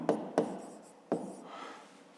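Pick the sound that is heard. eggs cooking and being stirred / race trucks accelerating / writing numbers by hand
writing numbers by hand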